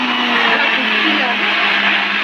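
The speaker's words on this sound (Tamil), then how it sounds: "இப்போ இதை வந்து மிக்சியில் வந்து பிளெண்ட் பண்ணிடலாம்." A mixie blender whirring at full speed through a mango ice cream mixture, a loud, steady, droning motor whine with a constant hum and no breaks.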